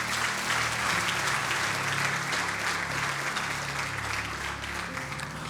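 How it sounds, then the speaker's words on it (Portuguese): Church congregation applauding during a worship service, a loud, dense and continuous burst of many hands clapping together that stays steady and full for the whole stretch, with only a slight easing toward the end. "Alguém aplauda o Senhor."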